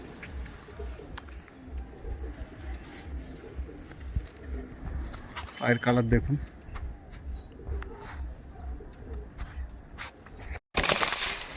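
Male pigeons with deep eyes and white wings, offered at a pigeon sale in Dankuni, coo in low repeated pulses throughout, with someone talking over them and a brief louder burst near the end.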